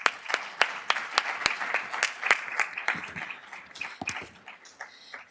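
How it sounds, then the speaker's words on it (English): Audience applause for a state representative speaking at a university energy week event, a medium-sized crowd clapping steadily at close range and gradually thinning out, with no talk over it. "please join me in giving Representative Gaydos a round of applause"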